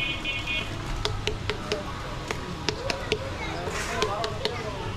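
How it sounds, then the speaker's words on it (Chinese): A Bangladeshi watermelon is tapped by hand to check ripeness, giving a series of sharp, hollow knocks in uneven bursts, close by, under ongoing talk and street noise. "你不是一直想学怎么听西瓜吗？"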